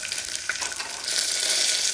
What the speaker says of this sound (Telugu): శనగపప్పు, పల్లీలు, ఎండుమిర్చి వేసి పోపుని శుభ్రంగా ఎర్రగా వేయించుకోవాలి